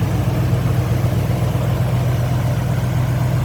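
A 1971 Buick Skylark's 455 V8 with ATI ignition idles smoothly and steadily close by, a deep low rumble holding an even, unbroken tone throughout with no voices.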